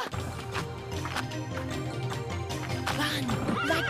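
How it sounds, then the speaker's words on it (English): In the animated film Mulan, a horse gives a short, wavering whinny near the end of a busy soundtrack, rising out of dense music and voices. "Father's horse!"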